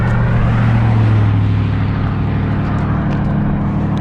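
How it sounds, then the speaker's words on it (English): Steady engine drone of vehicles approaching on a rural Iowa road, heard from a stopped motorcycle, loud and continuous with a low rumble that swells early and then eases slightly. "And here comes some traffic."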